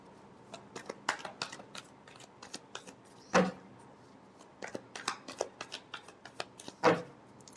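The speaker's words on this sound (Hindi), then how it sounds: "Last shuffle." Tarot cards are shuffled by hand in a steady run of crisp riffles and soft slaps, fairly close and quiet, with no talking over them.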